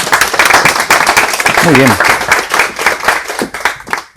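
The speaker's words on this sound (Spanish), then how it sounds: "Vamos a dar un fuerte aplauso." Audience members at a health talk for seniors applaud the speaker as he is introduced, loud and close clapping filling the clip, with a brief spoken comment partway through.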